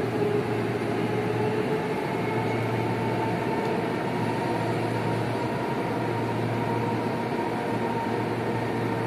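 Steady low rumble of an LRT Line 2 light rail train in motion with a constant hum and faint rattling, continuous throughout with no talking.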